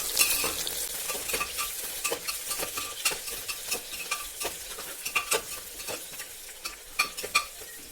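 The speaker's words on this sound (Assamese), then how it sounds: "পিঁয়াজখিনি ৰঙচুৱা হোৱালৈকে মই ভাজি থাকিম।" Chopped onions fry in a pan for mutton curry under a steady sizzle, broken by repeated scraping stir strokes of a spatula at an uneven rhythm, close and fairly quiet, with no voices.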